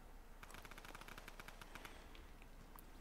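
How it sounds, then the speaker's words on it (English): Rapid automatic gunfire rattles in a burst during Fortnite gameplay, a fast string of shots lasting over a second and then thinning into a few scattered cracks. "Someone's already shooting."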